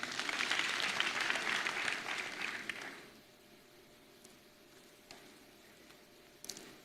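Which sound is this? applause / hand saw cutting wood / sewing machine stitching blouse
applause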